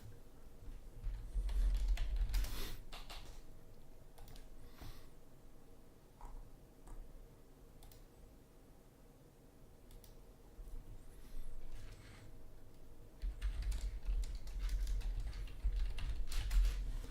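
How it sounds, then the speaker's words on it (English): Quiet, close keystrokes on a computer keyboard come in irregular bursts and pauses, with soft clicks spread across the stretch and no talking. "I'm just typing to somebody."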